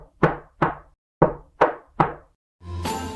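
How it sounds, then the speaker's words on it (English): Five sharp, close knocks on a door in an irregular rhythm, each a crisp thud with a quick decay, followed by a short burst of brighter noise at the end, with no voices. "they heard a knock at the door"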